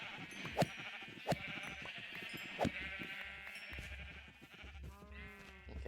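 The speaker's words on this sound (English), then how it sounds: "Look at all these sheep." Sheep in Minecraft bleat repeatedly in short, uneven calls, several animals overlapping at close range over a steady background hum, with no talk.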